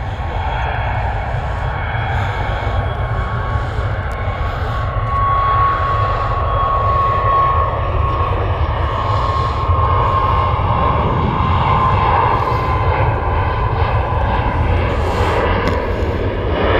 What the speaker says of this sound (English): It's sure to take off from right now. It is the Max.